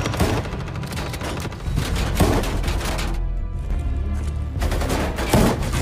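Gunfire in a film scene about a former special forces soldier, rapid bursts of shots over a dense rumbling soundtrack, loud and continuous apart from a brief lull in the middle, with no talking.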